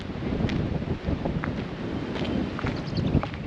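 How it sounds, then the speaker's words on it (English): Strong wind buffeting an outdoor microphone: a constant loud rushing roar with gusty fluctuations throughout, no voices heard. "It's very windy."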